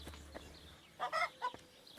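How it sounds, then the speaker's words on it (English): Rooster and hens clucking on a farmyard in the video game Kingdom Come: a few short clucks and a brief burst of fowl calls near the middle, heard alone over quiet ambience. "You got the rooster. And then you got chickens, or hens."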